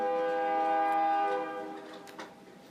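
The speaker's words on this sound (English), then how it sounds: "And the train chiming in." A train horn sounds in a long, loud chord for about a second and a half, then fades as the train passes, leaving a low rumble with a faint clank near the end.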